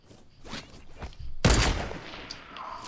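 One sharp, loud rifle crack in the video game Squad lands mid-clip and rings out into a decaying tail, preceded by a few quieter clicks and movement sounds, with no talking.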